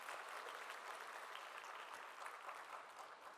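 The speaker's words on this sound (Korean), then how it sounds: "우리 새청년부 청년들을 위해서 우리 격려의 박수 한번" Church congregation applauding together at a young adults' worship service, a steady, dense wash of clapping that holds evenly throughout without pause.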